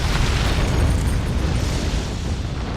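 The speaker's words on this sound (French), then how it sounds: "Une explosion sur le tournage cause la destruction d'une partie des studios" A rumbling explosion sound effect for a blast on a film studio set, a heavy low boom sustained as a dense roar that slowly tails off, loud and with no voices.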